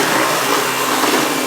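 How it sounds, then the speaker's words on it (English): Household vacuum cleaner running, a loud, steady whooshing roar with no pauses and no voices over it. "Let me go get my vacuum cleaner."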